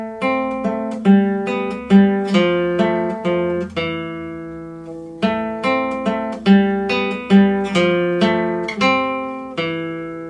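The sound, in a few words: guitar playing middle section of Malagueña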